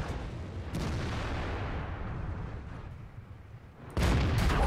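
Tank cannon firing in World of Tanks from a Type 62 light tank: a loud, booming blast followed by a long rumbling decay, then a second heavy shot a few seconds later.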